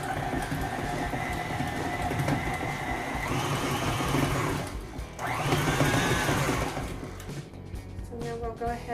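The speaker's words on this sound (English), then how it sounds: "I'm going to blend the batter up, and I'm going to start adding the sugar to that" A stand mixer whirs through red velvet cupcake batter in a home kitchen, a steady motor drone with a couple of rising surges in speed before it winds down near the end.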